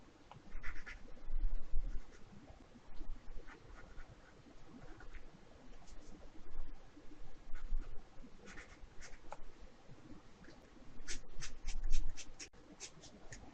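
Pencil sketching a perspective drawing of a medieval door: close, scratchy graphite strokes on paper in irregular bursts of short and longer strokes, with no talking.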